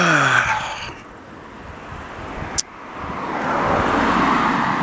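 On a lakeshore boulevard in a suburban Montreal neighbourhood, a car passes and fades, then a second vehicle swells closer as traffic noise rises toward the end, heard without talk.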